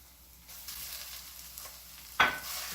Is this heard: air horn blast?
no